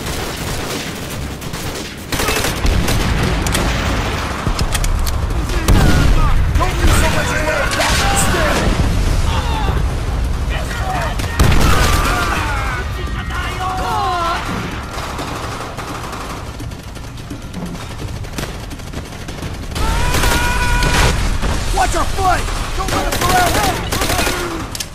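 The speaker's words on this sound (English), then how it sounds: "Enemy UAV is airborne! Friendly airstrike on the way!" Heavy Call of Duty battle sounds: rapid automatic gunfire, bursts and booming explosions from a friendly airstrike, loud and nearly continuous, with shouted voices mixed in.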